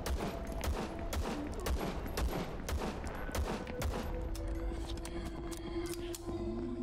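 Rapid bursts of gunfire fill the game VLADiK BRUTAL, dense overlapping shots and impacts crackling in quick succession throughout, with no voice over them.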